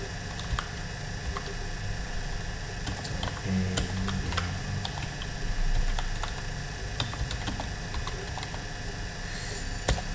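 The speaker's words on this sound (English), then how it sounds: "then you type in your message here" Keys tapping on a computer keyboard while an email message is typed, a steady run of light, quick clicks up close with brief pauses and a faint electrical hum underneath.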